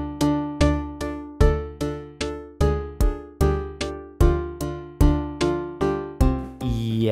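Minecraft jukeboxes fed by hoppers play Megalovania in a slow, halting sequence of loud, evenly spaced note blocks, each struck tone fading out before the next, with no talk over it.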